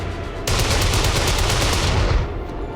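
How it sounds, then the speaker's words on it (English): Sustained rapid gunfire from XCOM 2 as a soldier shoots at a metal container, a loud continuous burst of automatic fire that starts abruptly and lasts about two seconds before cutting off. "And Mox decided to try and shoot through a metal container, and that paid off about as well as you'd expect."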